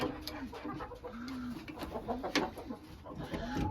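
Dwarf Cochin chickens cluck and murmur softly in short, scattered calls, with light rustling and tapping in the background, in snow.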